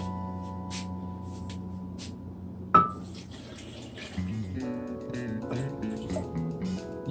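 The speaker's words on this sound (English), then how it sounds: "Oh wait, no, before I blend it, got to add water." Water is poured into a blender of protein cupcake batter, heard as a running liquid trickle after a steady hum and a sharp clink, followed by a brief burst of gurgling.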